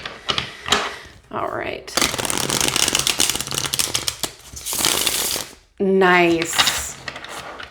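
Deck of tarot cards being riffled and shuffled by hand, several bursts of crisp rapid flutter and slapping, close and loud, with brief spoken remarks between them.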